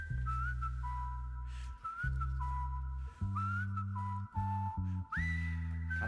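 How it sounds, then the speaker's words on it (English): A melodic whistle glides and loops over a steady beat and bass in an indie alternative pop track, the whistling line sitting clearly on top of the music throughout. "The whistle is, I guess, my least favorite part of the track."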